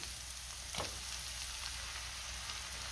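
Ginger-garlic paste and tomato fry in a pan for a dum egg masala base, giving a faint, steady low sizzle with one brief scrape near the start.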